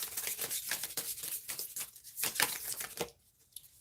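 A deck of oracle cards is shuffled up close in a quick run of crisp, rhythmic riffling flicks. It stops abruptly near the end, with no talking.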